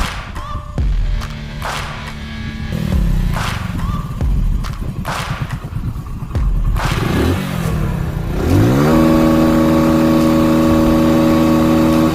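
A new and an old motorcycle rev loudly in repeated bursts, rising and falling, ending in a sustained high-pitched roar as one accelerates hard close by.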